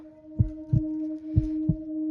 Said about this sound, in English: This heartbeat in my ears very loud.